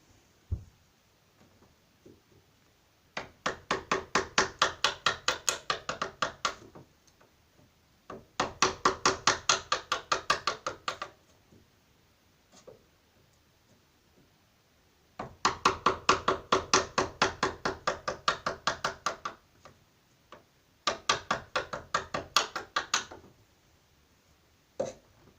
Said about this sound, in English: now just to chisel away